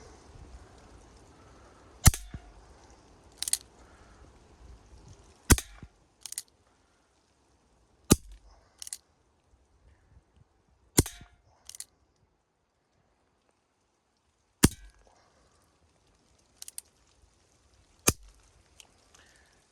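Umarex Colt Single Action Army .45 CO2 air pistol fired at a can, about six to eight sharp clicky pops spaced a couple of seconds apart, fairly close, with quiet handling between shots.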